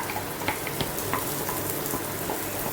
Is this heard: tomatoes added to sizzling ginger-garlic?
yes